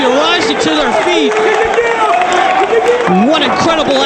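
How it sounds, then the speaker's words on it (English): A roaring wrestling crowd in Philadelphia cheers and shouts continuously during a match, loud and dense throughout, with a commentator's voice running over the noise. "Listen to this crowd."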